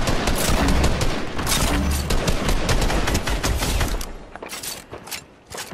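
Sniper and rifle gunfire in a video game, a dense barrage of sharp shots cracking almost continuously, loud and close, with the firing thinning out toward the end.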